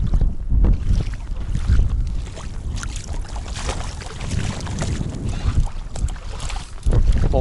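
A powerful snowmobile rides across dry spring ice in strong wind, its engine rumble buried under heavy gusting wind buffeting the microphone, loud and continuous throughout.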